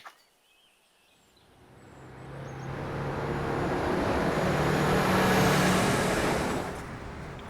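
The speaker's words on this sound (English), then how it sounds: "and dealing with traffic." Road traffic in Ashland, Oregon, with a vehicle approaching and passing: a broad roar that builds steadily from quiet, peaks loud and close, then starts to ease away, with no talking.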